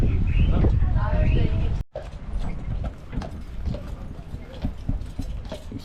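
A horse's hooves clip-clop steadily on a hard surface as it pulls a tram, with a rolling mechanical rumble beneath, preceded by louder clattering and machinery noise.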